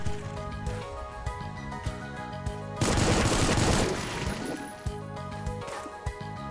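Gunfire in the game Supplice: a dense, loud burst of shots lasting just over a second rips through a droning, tonal game soundtrack, with a few sharper cracks scattered before and after it.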